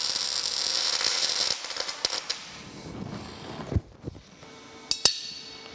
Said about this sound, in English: I'm using my Lincoln Electric Power MIG 210 MP is what we'll be using to weld this with